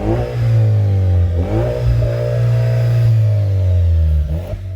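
A loud Jeep Wrangler JL Rubicon engine revs through a throaty Borla exhaust, pitch rising and falling in several deep pulls, close and steady with no talking.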